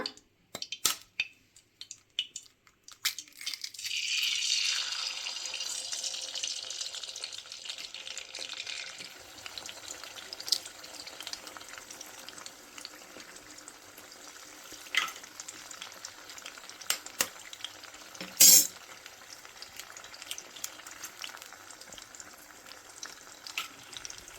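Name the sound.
eggs frying and being stirred in oil in a pan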